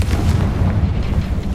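A Confringo fire spell explodes in the Hogwarts Legacy video game, a loud, dense rumbling blast that fills the whole moment, close and heavy, with no talking.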